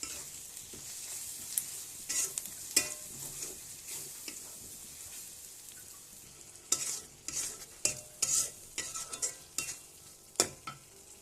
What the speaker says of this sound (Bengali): মশলাটা আমার ভালোভাবে কষানো হয়ে গেছে।